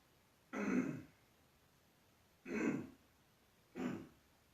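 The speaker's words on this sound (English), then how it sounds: "I'll clear my throat twice" A man clears his throat in three short, separate rasping bursts spaced about a second or more apart, close and distinct against a quiet room.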